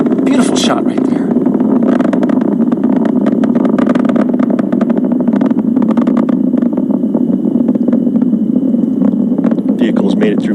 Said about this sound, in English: Falcon 9 engines pulling back just a little bit as that max Q milestone passes